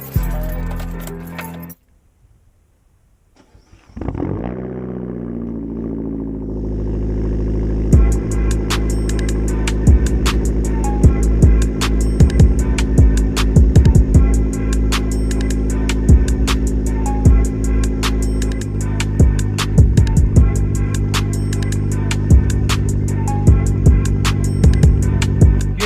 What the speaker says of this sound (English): I'm gonna go ahead and give you guys a cold start.